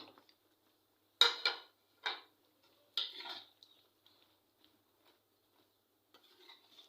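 Chopped bottle gourd tipped into a pan with tomatoes and onions, a few distinct scraping and clattering bursts of a spoon against the pan, then quiet with faint ticks.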